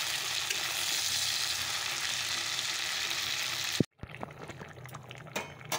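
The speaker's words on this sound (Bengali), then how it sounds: "আলু, বেগুন, মটরশুঁটি, পেঁয়াজ কলি দিয়ে মাছ হচ্ছে।" Fish curry with potato, eggplant, peas and onion greens bubbling and sizzling in a pan, a steady loud hiss for about four seconds, then a sharp cut to quieter, sparser sizzling with a few clinks.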